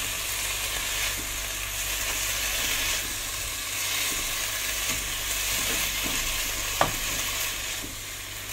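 Yakiniku-style beef frying in a pan for breakfast, a steady close sizzle with scraping stir strokes recurring throughout and one sharper clink near the end.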